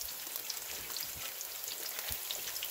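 Steady crackling sizzle of onions frying in a pan over medium-high heat, a dense hiss with scattered pops, continuous and close with no talking.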